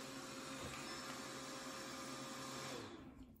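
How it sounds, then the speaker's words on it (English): Built-in warm-air dryer of a Bidet Mega 400 bidet seat running: a steady, faint motorized whir with a constant fan-like hiss and tonal hum that cuts off near the end. "That is a blow dryer for your butt."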